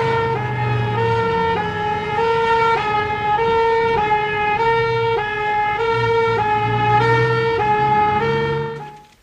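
A 1969 Belfast cardiac ambulance siren wails in a loud two-tone alternation, switching pitch roughly every second, close and continuous before cutting off at the end.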